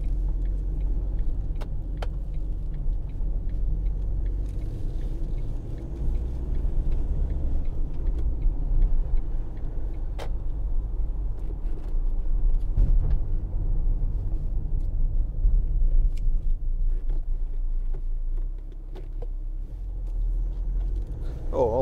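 A 2012 Ford Transit 2.2 TDCi 260 medium van idles, heard as a steady low diesel rumble from inside the cab, with a few faint clicks and knocks over it.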